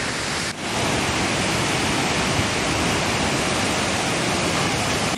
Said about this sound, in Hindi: और ये है फाइनल चोटी बिरती फॉल।